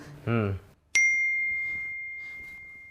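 A single bright notification ding from the CoinDCX Go crypto app sounds on a phone just after a short burst of speech, then rings out in a long sustained tone that slowly fades.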